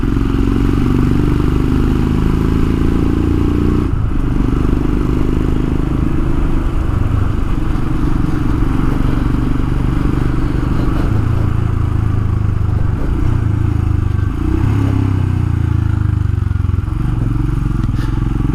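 A Royal Enfield Himalayan motorcycle rides along a countryside trail, its engine thrumming steadily and loud close by, with rattles and clatter from the rough ground running through the whole ride.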